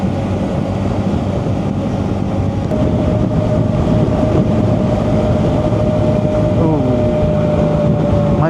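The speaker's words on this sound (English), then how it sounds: "when their sound harmonizes, just the exhaust note is just incredible." Several TVS Ronin motorcycles riding together give a continuous loud, droning exhaust rumble with steady road and wind noise throughout, and a rising tonal note appears midway.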